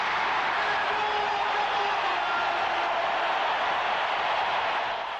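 A basketball arena crowd roars for Kareem Abdul-Jabbar, a broad, steady wash of cheering that holds evenly from start to finish.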